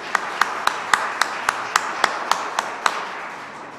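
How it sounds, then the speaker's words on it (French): Sparse, evenly spaced claps, about a dozen sharp hand strikes at a steady rhythm, fairly close and moderately loud, during a children's foundation press conference at a city hall. "une bonne belle applaudissement, s'il vous plaît"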